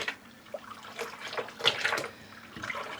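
Running water splashes and trickles irregularly in a sink while dark-dyed yarn is rinsed, with soft swishing bursts and quieter gaps at moderate distance.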